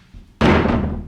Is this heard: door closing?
yes